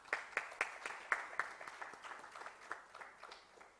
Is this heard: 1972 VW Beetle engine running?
no